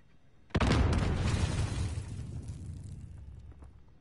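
A C4 charge detonates in a video game: a sudden close, heavy blast hits after a brief quiet moment, then rolls into a long, rumbling decay that slowly fades over several seconds.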